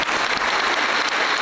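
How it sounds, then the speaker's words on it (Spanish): Applause fills Buen Pastor Cathedral in San Sebastián during a bishop's installation ceremony, a dense, steady clapping from the whole congregation that echoes through the large stone interior. "es el momento en que toda la catedral prorrumpe en un aplauso"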